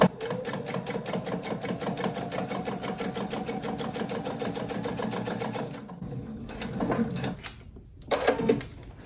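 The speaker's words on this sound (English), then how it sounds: "I'm just going to start right about here and I'm just going to sew to the corner" A sewing machine stitching a seam on a quilted clutch wallet runs in a fast, steady rhythmic patter, pauses briefly, then stitches in a few shorter bursts.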